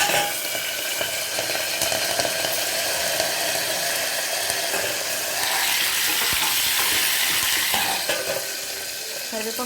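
Curry leaves crackle and sizzle loudly in hot oil, a dense, continuous hiss that flares up midway, with a few utensil clinks.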